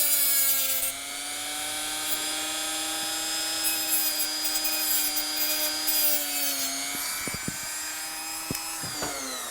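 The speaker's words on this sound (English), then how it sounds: "So that's the underside of the control panel completely cut away." A motor tool cuts away the underside of a model railway control panel, a steady high-pitched whine with rising tones that holds close and loud, then a few sharp clicks and knocks near the end.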